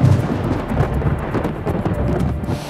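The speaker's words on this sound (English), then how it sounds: "Or a gust of wind into a wall of thunder?" Heavy thunder rumbles low and loud with rain, a rolling, continuous storm roar that swells and dips without a break.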